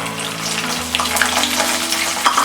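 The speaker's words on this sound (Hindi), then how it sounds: "अभी पीनट्स या सींगदाना फ्राई करेंगे।" Peanuts frying in hot oil for sabudana chivda make a loud, close, continuous sizzle and crackle with a few small pops, heard alone without talk.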